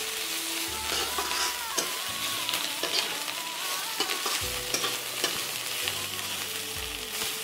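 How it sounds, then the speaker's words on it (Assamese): Small fish fry with fermented bamboo shoot in a pan, sizzling steadily under repeated scraping stirs that come in irregular bursts throughout. "মই ভাজিছোঁ।"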